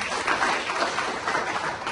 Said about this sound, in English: please give yourselves an applause